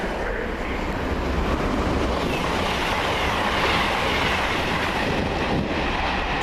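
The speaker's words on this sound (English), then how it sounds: "heading southbound with a Glasgow Birmingham service of Virgin" A Virgin Class 221 passenger train heading southbound on a Glasgow to Birmingham service roars steadily past nearby, with a continuous loud rumble and rail noise throughout.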